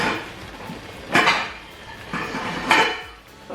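Spoon clinking against a cooking pot while an egusi stew with chicken feet and spinach is stirred, with three bright metallic clinks about a second and a half apart over quiet rustling.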